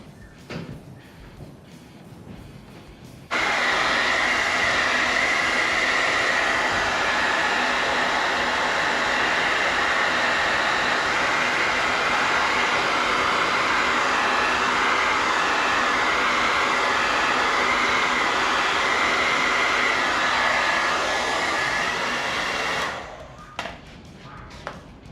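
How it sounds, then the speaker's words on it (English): Hair dryer running in a garage while work is done on a 1983 Honda Goldwing motorcycle that sat for 25 years, a loud steady whir switching on abruptly and cutting off about twenty seconds later. "Now I'm going to grab a hair dryer."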